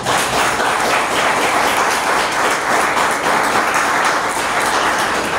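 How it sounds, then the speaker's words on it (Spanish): Sustained crowd applause at a church service, dense and steady throughout, loud and close with no voices standing out. "Dale un aplauso al Señor."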